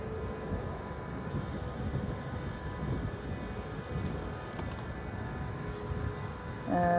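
A passenger jet at Stockholm Arlanda airport gives a faint, steady, distant engine roar and whine that stays level throughout, with no voices.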